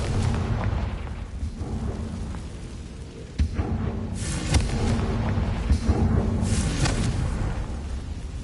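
A Confringo fire spell explodes in Hogwarts Legacy on PS5, producing a loud, sustained roaring blast with several booming surges and crackling bursts layered over one another.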